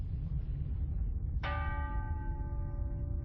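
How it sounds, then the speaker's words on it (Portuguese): A single church bell strikes loudly, its rich metallic tone ringing out and slowly fading over a low, steady rumble of background noise. "todos os sinos das igrejas na cidade começam a tocar, sozinhos."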